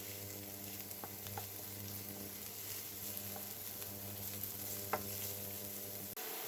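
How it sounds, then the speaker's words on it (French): Onions and garlic frying in hot oil for stuffed aubergines, a steady soft sizzle with a low hum beneath and a few faint utensil clicks, fairly quiet throughout. "on va rajouter les oignons et l'ail. Là, on va cuire jusqu'au temps que les oignons blondissent"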